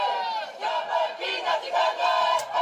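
Maori people perform a rhythmic group chant outside Westminster Abbey, with many voices rising and falling in loud pulsing phrases, slightly distant and crowd-like, alone throughout.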